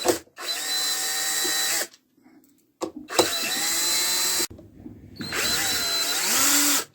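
A power driver backs screws out of plastic on a Kinetico water softener control head, three loud close whirring runs with pitch shifts, separated by short quiet gaps.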